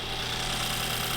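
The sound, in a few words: BMW N20 engine idling after spark plug change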